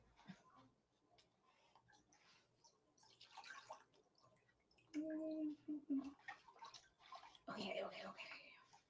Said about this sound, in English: Try not to get this water sprayed everywhere.